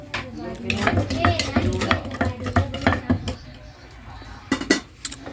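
Pestle pounds repeatedly in a mortar while raw rat larb seasoning is prepared, a busy run of close, uneven knocks and clinks with faint talk now and then.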